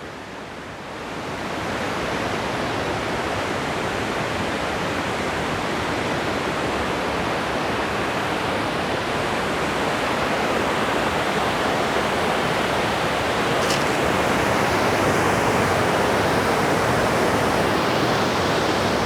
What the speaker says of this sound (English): Now at Lakam waterfall.